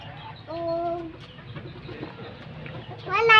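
Chickens cluck close by, with a few short drawn-out calls and a louder squawking burst at the end over faint background noise.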